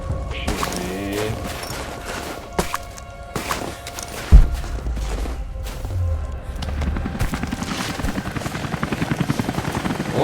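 A helicopter in the video game Rise of the Tomb Raider whirs with a loud, sustained rotor drone, broken by sharp bangs and a heavy thud, with rising pulsing chops toward the end.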